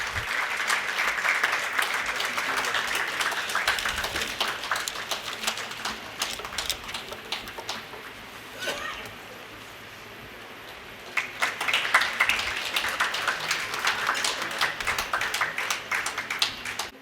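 Sustained audience applause at a conference welcoming a guest, dense and steady clapping that briefly dips in the middle before swelling again to full strength.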